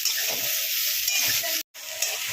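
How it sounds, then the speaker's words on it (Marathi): Green masala roasting in a little oil in a pan, a dense, steady hiss of sizzling with soft stirring scrapes, close, cut by a brief moment of silence near the end. "हलकं तेल घालायचं आणि मस्त भाजून घ्यायचा"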